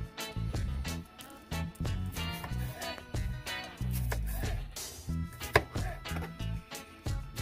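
A knife chops garlic into tiny shards on a board, with quick, repeated cuts in an uneven rhythm over a steady tonal background.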